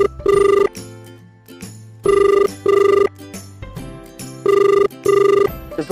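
A Vodafone phone call rings out with a loud, close ringing tone in repeated double bursts separated by short pauses, three pairs in a row.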